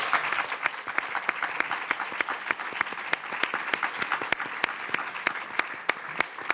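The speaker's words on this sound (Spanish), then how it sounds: "Un aplauso para Marine Goniet." An audience at an opening talk by Marine Hugonnier claps to close the event, with continuous applause and distinct sharp hand claps standing out throughout, fairly close and with no voices.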